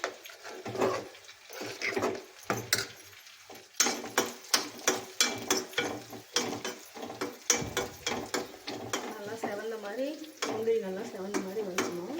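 Cashews are mixed into pongal with ghee, making a series of close, rhythmic stirring and scraping knocks in a pan, some stretches louder than others, alone without talk.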